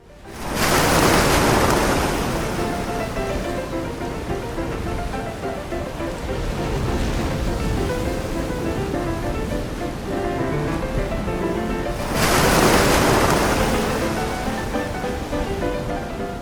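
Storm waves crash against a coastline in Italy, a dense, roaring surf with big breaking swells at the start and again near the end, continuous and loud with no voices.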